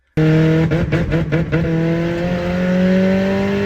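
A turbocharged Nissan Silvia S14 engine idles loudly with strong steady harmonics, broken by a quick run of sharp anti-lag popping bangs from the exhaust before settling back to a rumbling idle.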